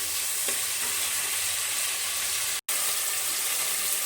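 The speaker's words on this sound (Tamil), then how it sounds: "நல்லா மிக்ஸ் பண்ணி விட்டுருங்க. தக்காளி நல்லா வணங்கட்டும்." Tomatoes with salt sizzling in a pan for a Tamil mutton kulambu as they are stirred, a constant loud frying hiss with a few soft scraping touches and a brief dropout partway through.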